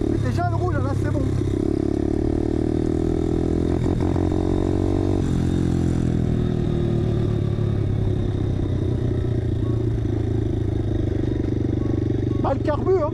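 A 125 cc RFZ motorcycle engine runs steadily with a rough, throbbing idle during carburetor tuning, loud and close, while someone talks over it throughout.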